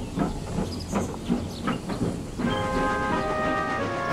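A cartoon steam locomotive shunts trucks at a harbour, with rhythmic chuffs and clanks for a couple of seconds, then a sustained loud hiss of steam with a whistle-like tonal edge.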